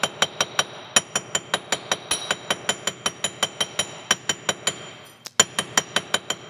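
Steady hammer blows flattening wire for a necklace, sharp metallic taps in a quick even rhythm, about three per second, with one brief pause near the end. Close and clear, no voices.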